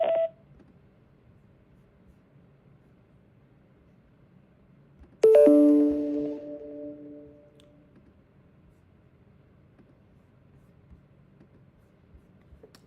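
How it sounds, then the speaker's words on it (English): A voicemail greeting ends with a short beep, then a longer, louder recording tone rings out and fades over a couple of seconds before quiet line hiss. "At the tone, please record your message."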